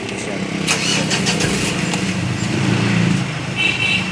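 A 2015 Mitsubishi Montero engine being started, cranking briefly and settling into a steady idle, loud and close, with voices talking over it.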